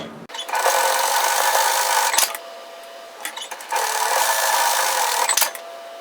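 A sewing machine stitches a pocket seam on a knit teddy jacket, running in two steady bursts of about two seconds each with a short quiet pause between, close and fairly loud.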